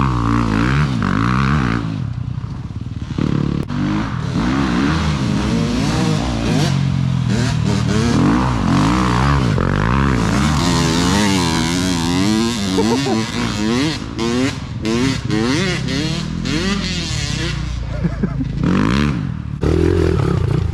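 A pit bike tears through mud with its small engine revving hard and dropping in repeated surges, close and loud, mixed with clattering and scraping, while a rider's voice talks over the ride.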